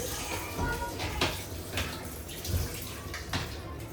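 Raw chicken is washed in water for an air-fried whole chicken dish, with sloshing splashes and pouring water at close range and a few soft thuds against a vessel.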